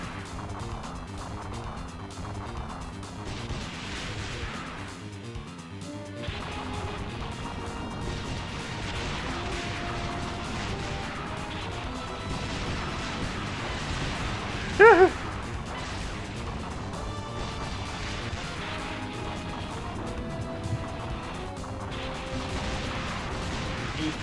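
Rocket launcher fire and explosions in the Metal Slug arcade game, shown as a dense, continuous barrage of crashes and blasts with one sharp, loud hit midway and no talk.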